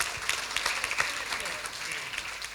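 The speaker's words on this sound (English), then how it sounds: "Please give a round of applause for everyone." Audience applause fills the room, a steady dense patter of many hands clapping at moderate level throughout, with no voices standing out.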